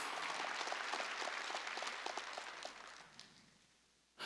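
Rhythmic group clapping from a congregation during a Wednesday worship service at a church, fairly dense and steady before fading out toward the end.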